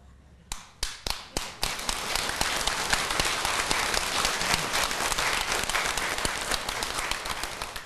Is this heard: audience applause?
yes